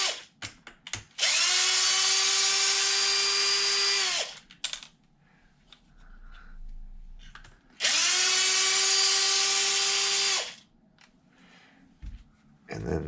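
Power tool spinning out bolts on a Traxxas XRT RC truck, two long steady whirring bursts of a few seconds each, close and loud, separated by quieter handling noises.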